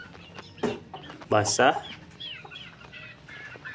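Young Mangon chickens, about three months old, cluck and call outdoors on wet ground after rain, with a few louder squawks near the middle and a person speaking briefly.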